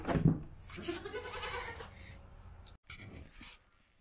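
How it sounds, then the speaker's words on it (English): A goat in a barn gives a short, nasal bleat up close near the start, and someone speaks softly to the animals through the rest of the recording. "Oh, Gertie goat."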